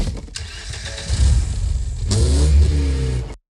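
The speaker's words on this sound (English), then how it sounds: "This is how it sounds with just the car engine." A car engine in a car advertisement revs up, a rising mid-pitched roar that builds, drops back and then surges again into a louder, harmonic rev before cutting off abruptly, with no voices.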